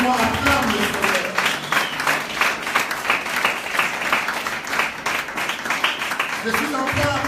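Church congregation applauding in acclamation of the Lord during a sermon, a steady dense wash of clapping sustained throughout, loud and close.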